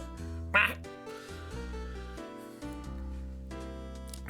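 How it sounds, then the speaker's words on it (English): A parrot's squawk that sounds like a duck quack in the Phoenix Wright: Ace Attorney video game, a short loud burst over steady game music, with a second brief call at the very end. "That's a quack, but don't worry about it."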